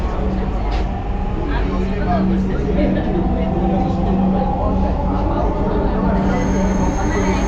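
Dhaka metro rail train at Uttara station, a steady rumble of the carriage with rail hum and a faint tonal whine, heard from inside as a recorded announcement voice plays over it.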